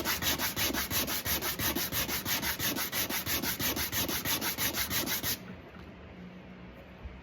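Sandpaper of 120 grit rubs back and forth over a 4/4 violin bridge in quick, steady rhythmic strokes, close and fairly loud, then stops abruptly, leaving quiet room tone for the last two seconds.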